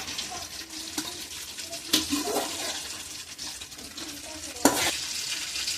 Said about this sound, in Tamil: இப்படி நல்லா கிளறி விட்டுக்கிடுவோம்